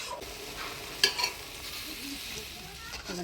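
Spinach cooks in a pan with a little water added, giving a steady soft sizzle and bubbling, with a couple of brief stirring clinks partway through.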